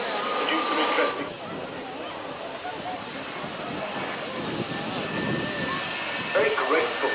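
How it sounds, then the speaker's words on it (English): Large aeroplane flying aerobatics at the 1994 Woodford Airshow, a steady broad jet-engine roar sustained throughout, loud and continuous with a slight swell near the end. "Very graceful sound of graceful aerobatics, which is very quite large aeroplane."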